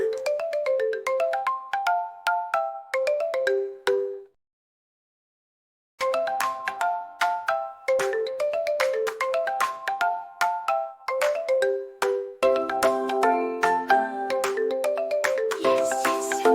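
A melodic electronic chime plays a repeating tune of bright, rapid notes, pauses for about two seconds, then continues with the same ringing pattern, loud and close with no voices.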